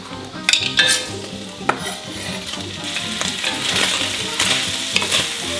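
Bacon fries loudly in a pan at close range, a dense crackling sizzle with busy stirring, scraping and occasional utensil clinks against the metal; no voices.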